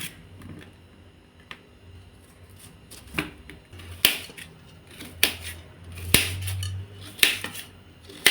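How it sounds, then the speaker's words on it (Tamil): A knife finely chopping cucumber on a board in a kitchen, irregular sharp taps that start sparse and quiet and grow louder and quicker toward the end, close by, with no talking. "இதை வந்து பொடிசாக நறுக்கிக்கிடுவோம்."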